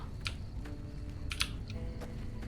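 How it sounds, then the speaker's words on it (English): Quiet keyboard typing heard in Fallout: New Vegas, a handful of light, irregular key clicks over a low background hum, with no talking. "Dude, what the fuck are you typing on?"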